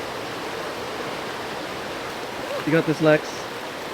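River water rushes steadily during a river crossing in Dumaguete, Negros Oriental, a constant close hiss of flowing current, with a person briefly speaking over it near the end.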